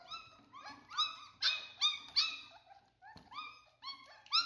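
Hungry five-week-old puppies whimper and yip in a run of high, whining cries, several pups overlapping close by in short rising bursts with brief pauses.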